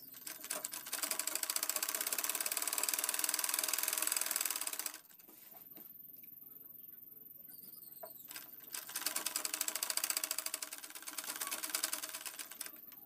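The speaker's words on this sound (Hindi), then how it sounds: "इस पर सिलाई लगाएंगे।" Sewing machine stitching the waist belt of a petticoat, two runs of fast steady mechanical rattling separated by a quiet pause, close and alone without any speech.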